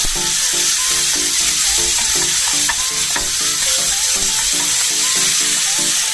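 Ground pork frying in a pan for Asian pork lettuce wraps, a steady loud sizzle with the rhythmic scrape of a utensil stirring and breaking up the meat, close and continuous with no talk.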